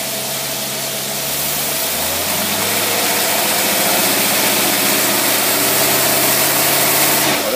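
Carbureted V8 on a dyno with a Corvette carburetor over 700 CFM, loud and close, its engine note climbing steadily from a lower drone into a sustained hard pull.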